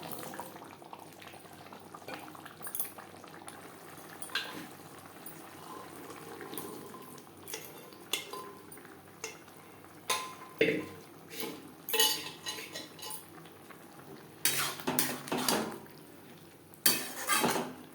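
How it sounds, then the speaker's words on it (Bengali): Boiled chickpeas go into a masala in a pan and are stirred in, with clinks and scrapes of a spoon against metal over a soft bubbling simmer, close but fairly quiet, with bursts of louder clatter toward the end. "মশলার সাথে চানা বেশ ভালো করে মিক্স করে দেবো"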